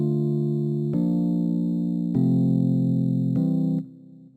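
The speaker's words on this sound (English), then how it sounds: "And for this production, I chose to use electric piano, okay, right here to get the chords." Electric piano chords voiced as extended Afrobeat harmonies in an FL Studio production, four sustained chord hits in a row, each ringing until the next, loud and close with no talk before fading at the end.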